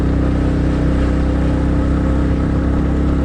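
A motorbike engine drones steadily and loudly while climbing a steep mountain road toward Babusar Top in Pakistan, a constant low rumble with wind noise and no pauses.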